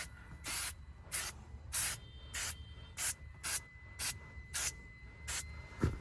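3M foaming car interior cleaner sprayed from a trigger bottle onto a water-marked car interior surface, nine short, crisp hissing squirts in a steady rhythm, close and alone.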